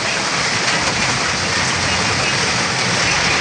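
Heavy rain pours down steadily in a dense, even hiss, close and loud throughout.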